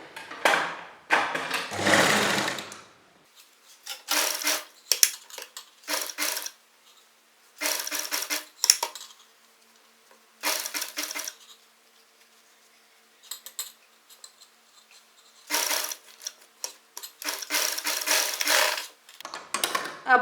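Short separate bursts of a sewing machine stitching along the edge of a kurti, each run lasting a second or so with quiet pauses between, close and fairly loud.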